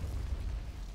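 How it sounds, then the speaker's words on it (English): A heavy, low rumbling blast from the war video game Men of War Assault Squad 2, a sustained booming roar that fills the whole second at moderate loudness with no voices. "explosion"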